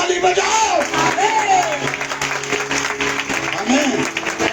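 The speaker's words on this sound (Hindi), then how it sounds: "जोर से ताली बजाओ" Loud applause from a congregation at a Friday fasting and deliverance prayer service, steady clapping throughout with a voice speaking over it.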